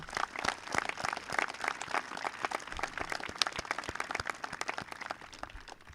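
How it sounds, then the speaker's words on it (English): Graduation audience at a school ceremony applauding steadily, a dense, sustained wash of many hands clapping throughout, moderately distant with no speech over it. "Let's give a round of applause for all those who have influenced our lives."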